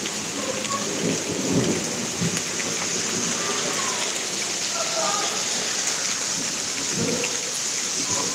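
A heavy thunderstorm in Pittsburg, Kansas, with steady loud rain hissing throughout and close thunder rumbling and cracking over it, while people talk faintly underneath.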